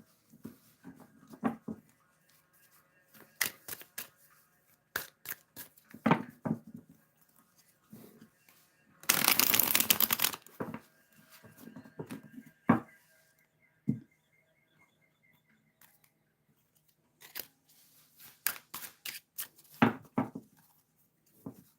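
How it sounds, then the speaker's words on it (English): Tarot cards being shuffled by hand: scattered soft riffling and tapping bursts, with one longer, dense flurry midway, close and quiet in an otherwise still room. "let's shuffle these cards."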